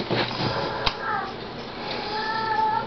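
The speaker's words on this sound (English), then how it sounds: "The cat's in heat." A cat in heat meows with a few drawn-out, wavering yowls. The calls are faint against a noisy indoor background.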